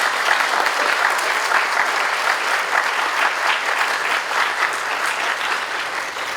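An audience at a recognition day ceremony applauds an award recipient, dense sustained clapping from many hands, loud and even across the whole stretch with no talking over it.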